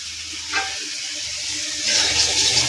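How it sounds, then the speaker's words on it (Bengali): Spices sautéed in a hot pan give a moderate sizzle with a short hiss near the start, then a brighter, louder frying sound over the last second. No one speaks. "মশলা দিয়ে নিচ্ছি আর মশলাগুলো কষিয়ে নিচ্ছি।"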